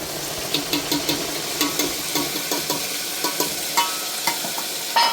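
Onion, green chili and tomato are stirred in a sizzling pan, a spoon striking and scraping the metal in a quick regular rhythm of about a dozen close clanks over steady frying hiss.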